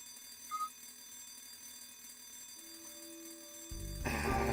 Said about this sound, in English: Now the alarm's ringing.